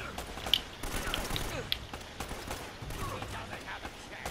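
Enemy gunfire aimed at the player in Uncharted: Drake's Fortune, with scattered shots and short volleys under a speaking voice, moderately loud amid game ambience.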